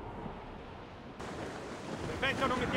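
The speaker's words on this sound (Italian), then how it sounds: "Proprio adesso doveva arrivare il vento." Wind gusts over the open sea in the sailing game Assassin's Creed Rogue, a steady broadband rush with surf-like swells that grows louder toward the end.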